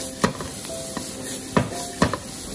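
Celery and dried fish stir-fried in a wok over a steady hiss of sizzling oil, with three or four sharp metallic spatula scrapes and clanks standing out close by.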